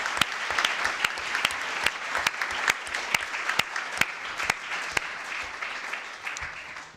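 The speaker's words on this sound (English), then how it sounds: "another round of applause for Stephanie and Alice" Applause from a conference audience at an international scientific meeting in Florence, steady clapping with sharp distinct claps standing out, moderately loud, no talk.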